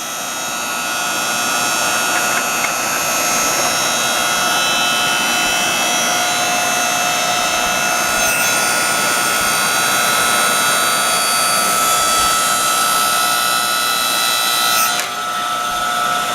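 A new BOSS 7-ton electric log splitter runs steadily and fairly quietly, a continuous motor hum with a faint high whine holding level for the whole stretch, with no voices.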